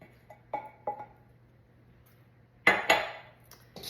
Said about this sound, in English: get yourself a spatula of choice to make sure you scrape out all the goodness.